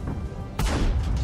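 Tank cannon firing during a World of Tanks battle with a CS-53 light tank, a sudden loud boom bursting out of ongoing engine and battle noise and rolling on briefly.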